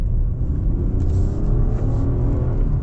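Genesis G80 Black engine with artificially enhanced sound piped into the cabin, a steady low rumbling drone heard from inside while driving, fairly loud with no talking.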